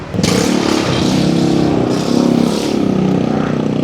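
Underbone motorcycle fitted with a loud aftermarket exhaust, its engine running close by with a steady raspy drone and a brief rev swell midway, no talk over it.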